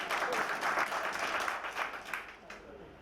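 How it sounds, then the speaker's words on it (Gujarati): Short burst of audience applause at a school session in Visnagar, a dense patter of clapping hands that fades out over about three seconds. "તાળી દઈએ."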